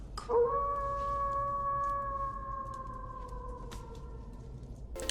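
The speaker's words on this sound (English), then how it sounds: "I'm certain that howling right after the name is a reference to Young Frankenstein" A wolf howl in a film scene, a single long sustained wail with a steady pitch lasting several seconds over a low constant background rumble, with no talk.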